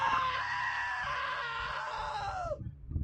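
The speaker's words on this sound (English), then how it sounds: "Now that was a great scream." A long, loud, falling scream from a character in the video game What Remains of Edith Finch lasts about two and a half seconds, then cuts off into a few soft thuds and rustles.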